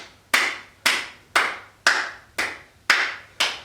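Hands clap in a slow, even rhythm during a beginners' yoga exercise, seven crisp, close claps about half a second apart, each fading quickly, with no talking.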